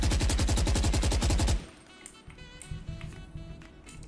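Phantom rifle in Valorant firing full-auto from the hip, a rapid, loud, evenly spaced burst of about a dozen shots that stops abruptly, followed by faint clinks and quieter game sounds.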